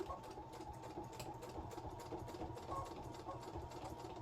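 A sewing machine runs steadily while stitching over a thick denim seam on a pair of jeans, giving a continuous fast mechanical whir with a rapid needle rhythm and no pauses.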